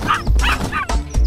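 A cartoon dog in a nursery rhyme song barks in a quick series of loud, close yaps over bouncy music.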